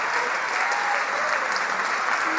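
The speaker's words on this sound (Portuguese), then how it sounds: "Vamos aplaudir mais, igreja, que está chegando mais." A church congregation applauds continuously in a reverberant hall, a dense steady clapping that stays even throughout, with faint background voices.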